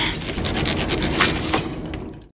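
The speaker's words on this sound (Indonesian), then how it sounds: "gergaji besi yang bisa ia gunakan untuk memotong kunci gembok" A hacksaw rasps across a metal padlock in a film scene, a few seconds of harsh, quick back-and-forth scraping strokes, close and fairly loud, ending abruptly.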